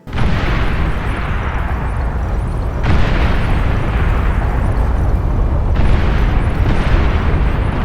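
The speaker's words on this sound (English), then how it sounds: "We are out on the range today, so please bear with the sound of nuclear ordnance in the background." Nuclear ordnance explodes in the strategy game Beyond All Reason, three loud successive roaring blasts, each rumbling on until the next one hits.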